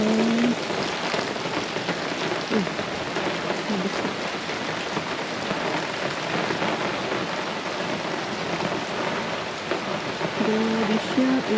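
Heavy rain pours steadily over a New Zealand forest, a dense continuous hiss of drops on leaves and surfaces with no letup, close and loud throughout.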